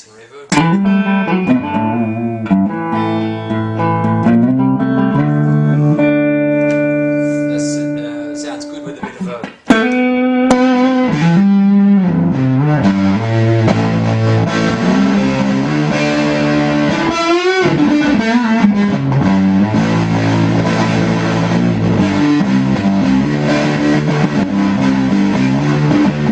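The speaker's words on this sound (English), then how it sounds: "I'm just going through a Princeton reverb, Fender Princeton reverb." Eastwood Warren Ellis signature electric guitar played through a Fender Princeton Reverb amp, sustained chords and melodic lines with a stringy, slightly driven tone, steady and loud throughout with a brief break near the middle.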